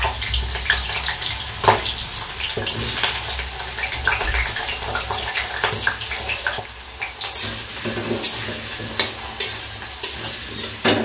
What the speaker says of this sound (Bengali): তো আলুটা প্রথমে ভেজে নিচ্ছি